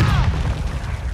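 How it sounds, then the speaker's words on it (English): A stun grenade goes off in Call of Duty MW2, a loud close burst with a heavy low rumble and a ringing whine over it, lasting about a second. "Stun grenade!"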